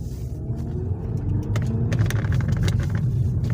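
A car pulling away and driving off, a loud, close engine rumble that builds steadily with a few light rattles over it, with no talking.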